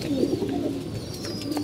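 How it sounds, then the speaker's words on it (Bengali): Pigeons in a loft coo softly and continuously, low murmuring calls close by over a faint outdoor hiss, with no talking. "দেখছেন এই যে কবুতরগুলো, আর কবুতরগুলো উঠতেছে"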